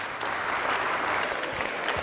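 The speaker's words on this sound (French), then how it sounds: "Continuez d'applaudir, continuez d'applaudir." An audience applauds at a school event, a steady, moderately loud patter of many hands clapping evenly for a couple of seconds.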